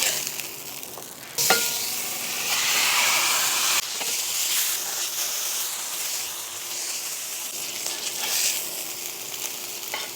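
Burger patties with jalapenos sizzle loudly on a hot griddle as they are pressed flat. A steady, close frying hiss swells with a sharp surge and continues unbroken.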